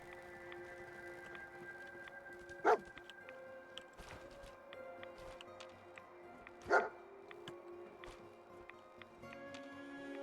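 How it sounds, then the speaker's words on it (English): Dogs bark in the Fallout 4 video game, two sharp, distant barks some seconds apart over a low ambient game soundscape. "What are they barking at?"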